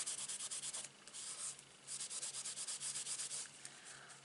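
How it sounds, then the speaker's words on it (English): A Swiffer cloth wipes embossing powder off a stamped card with quick, rhythmic rubbing strokes. The strokes are soft and close, with a short pause partway through. "I'm just going to get my little Swiffer cloth, and I'm not doing it for any other reason bar to take off the powder from the embossing buddy"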